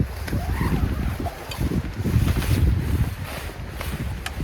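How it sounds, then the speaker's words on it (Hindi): Wind blows steadily through a forest campsite at night, a continuous loud rushing and buffeting close to the microphone, with no voices. "बाकी हवा चल रही है"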